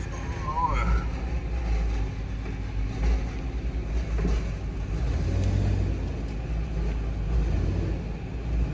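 A vehicle drives up a ramp beside a canal boatyard, a steady low engine rumble with some revving throughout, with someone talking over it.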